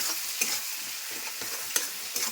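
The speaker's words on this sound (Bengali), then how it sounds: "লঙ্কা বাটা দিলাম, রসুন বাটা, জিরা বাটা দিয়ে ভালো করে নাড়বো" Chili, garlic and cumin paste stirred in a hot pan, a steady bright sizzle of frying with soft scraping strokes of a spatula at irregular intervals, no voices.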